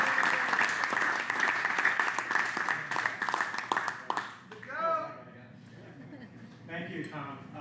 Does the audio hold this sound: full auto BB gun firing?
no